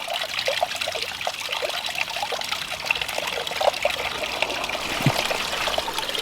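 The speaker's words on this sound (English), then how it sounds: "We're getting a lot of splatter from the waterfall." Water splatters and trickles steadily from a garden wildlife pond waterfall under renovation, a continuous close, moderately loud splashing babble with no voices.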